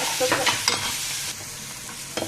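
Chicken pieces and vegetables fry in a small amount of oil, giving a steady close sizzle with a few brief stirring scrapes and spatters near the start and end.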